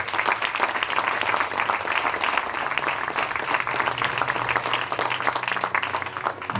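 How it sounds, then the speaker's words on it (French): An arena crowd at a QubicaAMF bowling tournament applauds a player's introduction, sustained and moderately distant clapping with a faint low hum beneath. "Sous vos applaudissements, s'il vous plaît"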